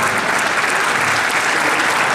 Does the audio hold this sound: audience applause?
yes